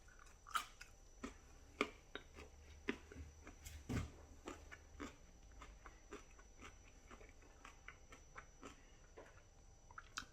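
Close, crisp crunching of a carrot stick dipped in kiwi dip being chewed, repeated bites in a steady rhythm, quiet and alone with no talking.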